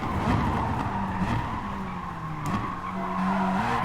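Race car tires skid and squeal under late braking in the Gran Turismo Sport video game, with a steady engine drone underneath and wavering tire screech across the whole stretch.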